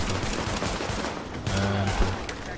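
Pistol gunfire in The Division during a firefight, a quick run of close, loud shots layered over busy background combat noise.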